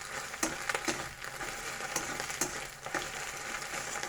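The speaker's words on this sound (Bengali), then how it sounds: "দেখতেই পাচ্ছেন ডিমটা ভালোভাবে ভাজা হয়ে গেছে" An egg fries in a pan for chow mein, a soft continuous sizzle broken by several sharp scraping stirs of a spatula, close and moderately quiet with no speech.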